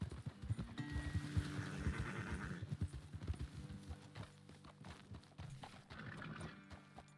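Horses clip-clop steadily along in Red Dead Redemption 2 as riders head toward a dismount spot, with a whinny near the start and a continuous game soundscape underneath.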